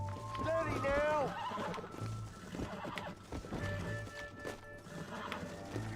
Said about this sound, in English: I'm just trying to keep balance on this fucking horse